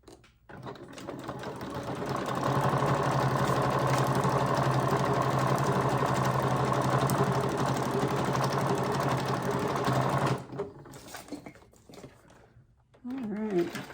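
A sewing machine stitches a patchwork cover, a close, steady mechanical whir running for about eight seconds before stopping, followed by quiet handling and brief talk.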